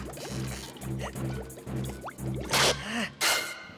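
A single drop of green liquid falls into a container in a children's TV show scene, a short wet splash and squelch near the end over a steady background music bed with no talk.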